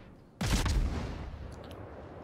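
The destroyer Khabarovsk fires its naval guns in World of Warships, one loud sudden salvo of booming blasts that rolls out into a long fading rumble, with no talking over it.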